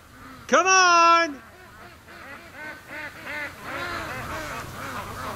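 One loud nasal honk rings out near the start, followed by a steady stream of softer quacking and chatter from several waterfowl.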